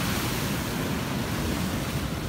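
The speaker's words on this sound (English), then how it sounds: "Right at the edge here of the ocean." Ocean surf breaking at the shore's edge in front of a Four Seasons hotel on Oahu, a steady, close, full wash of rushing water and foam with no pauses or voices.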